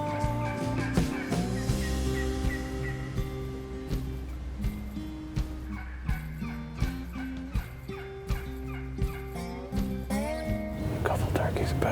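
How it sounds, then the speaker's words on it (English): Wild turkeys gobble near hunting decoys during a fall turkey hunt, their calls repeating at moderate distance through the clip, layered over steady low background sound. "With all the turkeys that I can hear around us right now,"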